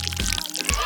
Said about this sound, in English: Oh, they're pouring cement